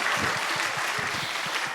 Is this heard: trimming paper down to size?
no